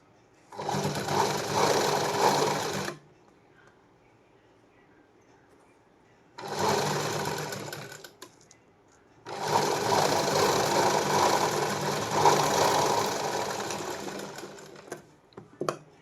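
A sewing machine stitches a blouse sleeve seam in three close, steady bursts of whirring, separated by short pauses with a few faint clicks.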